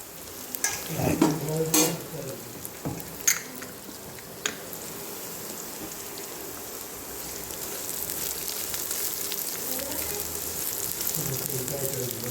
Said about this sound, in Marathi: चांगला भाजून घ्यायचा कांदा.